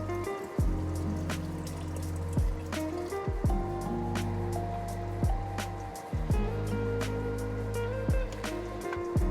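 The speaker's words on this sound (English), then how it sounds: "add water." Water is poured into a pot of cooked corn for soup in several separate splashing pours, each with a rising gurgle as the pot fills. The pours are close and clear and no one speaks over them.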